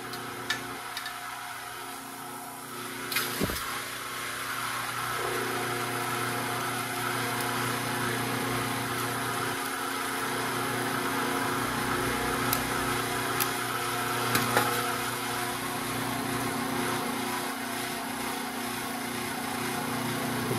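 A motorized wire stripping machine with two spinning blades runs steadily, a continuous mechanical whir and hum with a few light ticks and knocks, moderately loud, with no one speaking.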